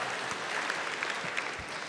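A comedy-club audience gives a short burst of quiet, even applause to a stand-up comedian, with no voices over it.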